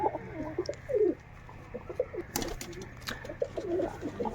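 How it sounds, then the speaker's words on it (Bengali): Pigeons, including Jacobins, coo in soft, repeated throaty phrases close by in a loft, with a few sharper knocks or flutters in between and a steady low hum underneath. "এই হচ্ছে আমার লাফটের ঘর এই সব কবুতরগুলো বসে আছে"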